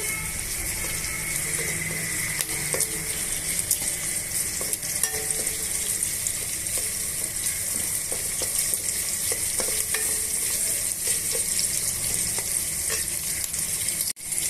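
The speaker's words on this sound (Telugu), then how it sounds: "ఇవన్నీ బాగా వేయించేసుకోవాలి హైలో పెట్టుకొని వేయించేసుకుందామండి" Onion and green chillies fry on high heat for chicken dum biryani, a loud, dense, continuous sizzle close by with frequent clicks and scrapes of stirring throughout, no voices.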